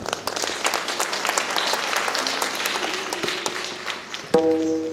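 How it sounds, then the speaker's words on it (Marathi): An audience at a Marathi kirtan gathering claps loudly and continuously for several seconds, a dense crowd applause that tapers off near the end, when a brief tone sounds. "या सगळ्यांना जोरात टाळी वाजवून मनापासून अभिवादन"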